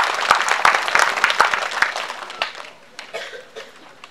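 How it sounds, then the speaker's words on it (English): At a high school World Environment Day celebration, scattered students clap in a short burst of distinct, uneven claps that thin out and fade after a couple of seconds, with faint murmuring and a chuckle. "I thought you would clap for that."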